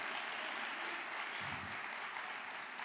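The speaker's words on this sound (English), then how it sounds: "And while you're in the clapping mood" Audience applause at a morning conference session, a steady wash of clapping from a large crowd filling the room, even and sustained throughout without voices on top.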